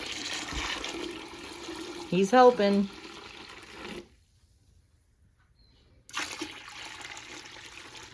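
Water is poured into a container for homemade laundry soap, making a brief, close splashing gush under a few spoken words, followed by near silence.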